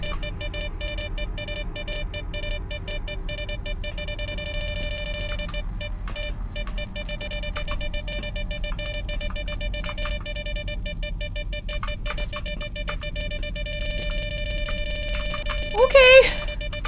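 A beeping alarm in the video game S.T.A.L.K.E.R.: Shadow of Chernobyl sounds as steady electronic tones with rapid ticking pulses, running continuously under dense game noise and a voice.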